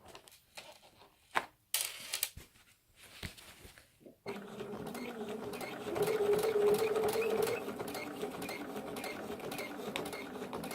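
A sewing machine fitted with a walking foot stitches heavy fabric. Scattered handling clicks and bumps come first, then a steady, loud mechanical whirring run of stitching.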